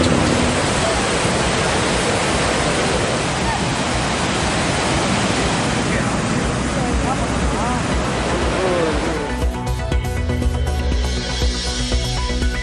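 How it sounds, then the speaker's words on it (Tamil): Pykara waterfall in Ooty pours in a loud, steady broadband rush of falling water, close and continuous, shifting toward the end into a slightly different mix with faint tonal background sounds beneath the roar. "உதகையில் பாய்ந்து வரும் பைக்காரா அருவியை ரசித்து மகிழ்ந்து உற்சாகம்."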